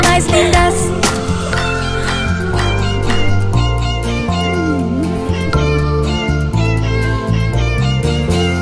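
Cat meowing in a children's song, a cartoonish meow voiced over a busy, loud musical backing with steady beat and melody throughout.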